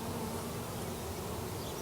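Honeybees buzz thickly at a hive in New Zealand, colonies infested with varroa mites, a close, continuous drone with no pauses.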